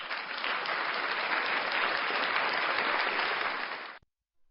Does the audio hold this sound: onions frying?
no